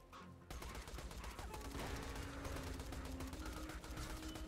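Rapid gunfire in Borderlands 2, shooting at eggs: a dense continuous burst of shots rattling steadily for several seconds after a short pause, loud and unbroken.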